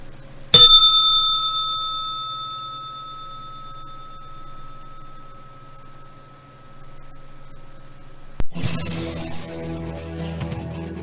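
A single struck bell opening a live futures and crypto trading broadcast rings once, loud and close, its bright metallic tone decaying slowly for several seconds before other sounds cut in.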